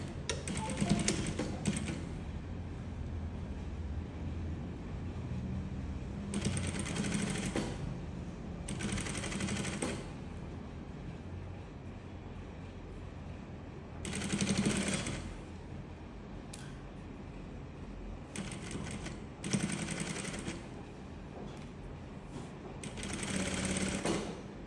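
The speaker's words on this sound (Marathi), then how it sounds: "झीपला ओपन करायचं आणि मगच तुम्हाला शिलाई मारायची आहे." Sewing machine stitching an invisible zip, several rapid mechanical whirring bursts of a few seconds each separated by pauses, close and clear, with occasional quiet handling noises.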